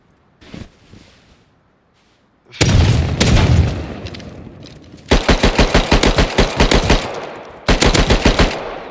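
Gunfire in the video game Rust, where a pump shotgun is used: a single early shot, then a heavy booming blast, then loud rapid volleys of close shots in tight bursts.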